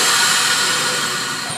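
Vacuum sealer sealing a bag of pork for sous vide cooking, a loud continuous rush of air that fades slightly toward the end.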